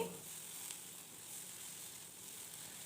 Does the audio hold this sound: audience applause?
no